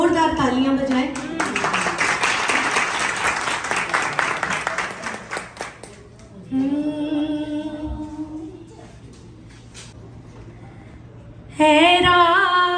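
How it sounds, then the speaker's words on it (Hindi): Audience at a Pakistan Defence Day event in New York breaking into loud, sustained applause that fades out, with singing and talk heard before and after the clapping. "जरा एक जोरदार तालियां बजाएं"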